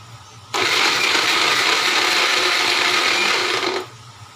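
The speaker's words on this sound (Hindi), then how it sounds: "देखिए अच्छे से ये बिल्कुल ब्लेंड हो गया है" Blender grinding a chikoo milkshake with ice cubes, one loud steady roar about three seconds long that starts and stops abruptly, heard alone.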